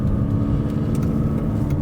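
A high-mileage Mercedes W209 CLK diesel engine with 230,000 miles runs at a steady, close idle, a continuous low rumble with no talking.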